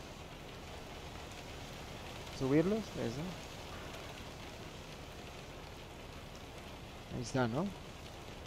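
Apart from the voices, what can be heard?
rain in video game American Truck Simulator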